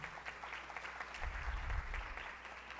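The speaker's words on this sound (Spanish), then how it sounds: "Un fuerte aplauso." An audience at a multidisciplinary criminology course bursts into a firm round of clapping to welcome a speaker, steady dense applause with a brief low thump partway through.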